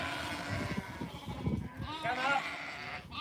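Sheep bleat on a sheep farm, a few wavering calls rising over nearby talk and general pen noise, the clearest bleat coming near the end.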